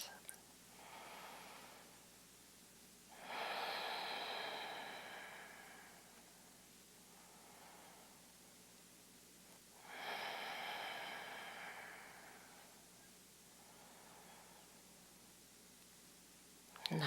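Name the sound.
relaxed breathing during yoga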